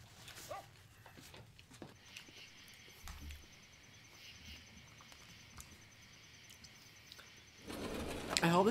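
Faint dog whimpering from a film being watched, quiet and intermittent under a low background hum, with a louder burst of sound near the end.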